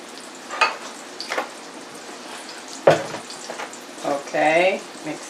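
Turkey nuggets frying in hot oil give a soft continuous sizzle, broken by a few utensil clinks and a louder clatter, with some faint voice-like sounds toward the end.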